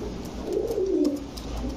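Large Pakistani Rampuri, Teddy and Saharanpuri pigeons coo in a farm loft, one low, throaty rolling coo rising and falling at moderate distance over faint background noise.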